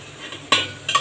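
Papaya being sautéed in a pan gives a low sizzle, broken by two scraping stirs of a utensil against the pan.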